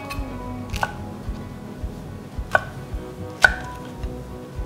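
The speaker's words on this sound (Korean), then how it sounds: "먹기 좋게 아예 처음부터 반씩 썰을게요" A kitchen knife slices shishito peppers in half on a cutting board, giving three sharp, separate chops spaced a second or so apart against a quiet, steady background.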